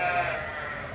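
A sheep at the Balmoral show gives a single drawn-out bleat, fairly close and clear, fading toward the end.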